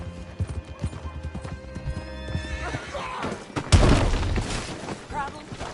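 A horse in the video game Red Dead Redemption 2 whinnies loudly amid clip-clopping hooves, followed by a heavy crash and rumble, with game music and voices in the background.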